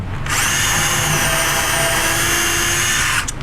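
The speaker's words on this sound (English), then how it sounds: "takes his drill" A power drill whirs steadily for about three seconds while pre-drilling a hole in cabinet wood, close and loud with a high whine, then spins down at the end.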